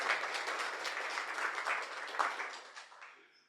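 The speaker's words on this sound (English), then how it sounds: "let's have a thank you, a round of applause for that" An indoor audience at an astronomy society meeting gives a modest round of applause for the photo exhibitors, steady clapping from a small crowd that fades out over the last second.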